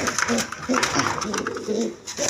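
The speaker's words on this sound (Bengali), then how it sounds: "এইখানে একটা লক্ষার নর কবুতর আছে" A male Lakka pigeon coos in short, repeated throaty rolls close by, among other cooing birds, with someone speaking over them.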